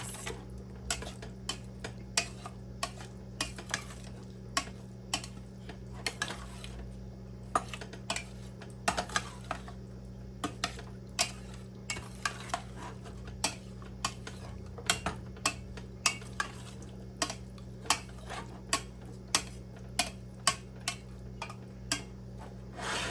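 Coconut oil being broken up and stirred in a pan, heard as a long run of sharp utensil taps and scrapes against metal in an irregular rhythm, close and clear with no talking.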